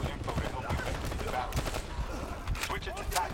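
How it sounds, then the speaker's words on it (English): Suppressed gunfire from Call of Duty Black Ops 3 crackles in rapid, muffled bursts over a dense game soundscape, with faint talk blending in. "I think the silence guns actually sound better"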